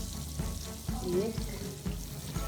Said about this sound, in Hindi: बस ये मैं भून लूँगी